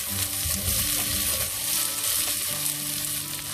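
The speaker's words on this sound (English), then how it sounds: "We have to saute our onions till the time they become light pink in color." Chopped onions sautéing in a pan for a matar paneer curry give off a steady, close sizzle with occasional soft stirring, and no one speaks.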